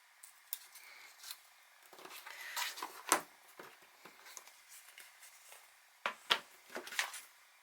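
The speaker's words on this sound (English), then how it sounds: "I usually poke in these sides with the scissors beforehand" Quiet, irregular snips and crisp pokes through paper, some sharper clicks standing out, spaced unevenly with short pauses between.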